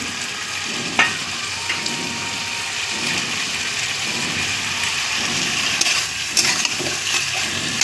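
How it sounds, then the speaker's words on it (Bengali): Potatoes and tomatoes with chili and spices hiss steadily while being stirred in a pan, a continuous near sizzle broken by occasional scrapes and clinks. "আর 10 মিনিট একটু নাড়াচাড়া করবো।"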